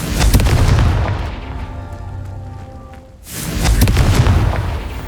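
The Confringo spell in Hogwarts Legacy sets off a pair of loud booming blasts, each a heavy explosive burst with a rumbling tail, separated by a quieter stretch with a faint tonal hum.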